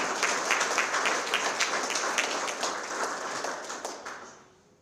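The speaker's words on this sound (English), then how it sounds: "Let's give our partners a round of applause" Audience at a Halifax anti-Black racism grants ceremony applauds partners, a full steady round of clapping that fades out toward the end.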